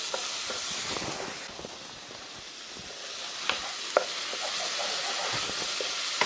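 Shrimp drop into a pan of well-cooked onions for a fresh tomato shrimp spaghetti, setting off a steady crackling sizzle with scattered pops and a few sharp clicks from stirring.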